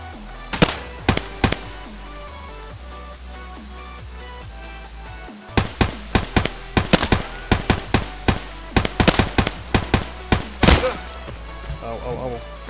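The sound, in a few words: gunfire in the video game Escape From Tarkov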